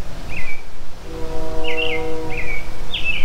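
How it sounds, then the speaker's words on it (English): Several short, high bird chirps come in bursts over a steady outdoor background hum, with a low droning tone in the middle, heard beside a 2000 Chevy Blazer. "y'all hear the birds chirping?"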